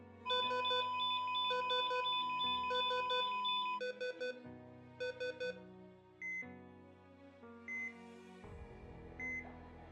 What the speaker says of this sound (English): The blaring alarm stops